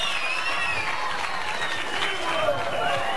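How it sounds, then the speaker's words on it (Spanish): A television studio audience in 1991 claps and shouts, a dense continuous wash of applause with cheering voices mixed in, steady and fairly loud from start to finish. "la gente prácticamente aplaudiendo y pidiendo a gritos"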